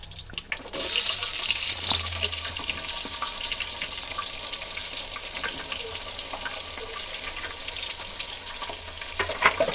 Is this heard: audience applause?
no